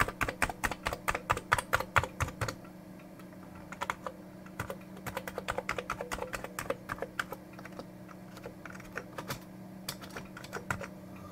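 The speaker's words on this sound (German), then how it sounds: "jetzt funktioniert die Tastatur wieder wunderbar" Typing on a reassembled Amiga 1200 computer keyboard: rapid bursts of crisp, close key clicks, denser at the start, then slower irregular presses and short runs, with no voices.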